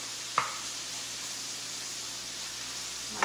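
Beef pieces dropped into a smoking-hot pan for stroganoff, a sharp hit near the start followed by a steady, even sizzle of searing meat that carries on alone.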